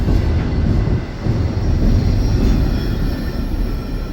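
A freight train rolls steadily past close by, a loud continuous rumble of wheels and rail noise with faint squeal and no talk.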